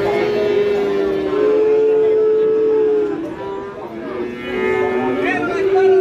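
A Limousin cross bull bellows at a cattle market in two long, loud, nearby moos, the first lasting about three seconds, with a short gap between them.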